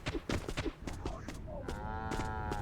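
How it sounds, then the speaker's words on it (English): Cows moo in the Dragon Quest Builders 2 video game, a drawn-out bovine call rising clearly at the end after some clattering game sounds. "Do we want 2 cows?"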